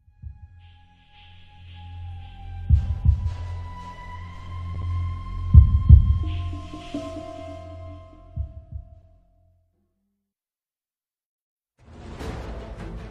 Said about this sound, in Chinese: 罗辑能清晰地听到自己的心跳声